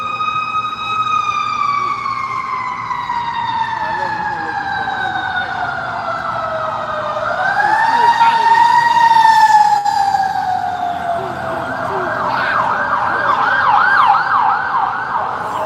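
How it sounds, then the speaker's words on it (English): Fire truck sirens wail loudly and continuously as they rush past, their tone sweeping upward then settling into fast rising-and-falling yelps, with a faint voice in the background. "Those fire trucks rushing to come and hear the word of the Lord?"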